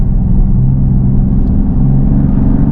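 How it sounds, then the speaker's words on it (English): Engine of a 2026 Dodge Charger Scat Pack with its turbo spooling under acceleration, a steady loud droning rumble from inside the car, continuous throughout with no voices. "when that turbo hits, I feel like the first couple of gears are a little slow"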